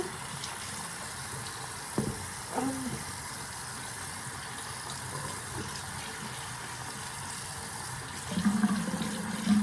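Cold tap water runs steadily while doll hair is rinsed beneath it, a constant close splashing hiss with a couple of brief knocks partway through and a louder gush near the end.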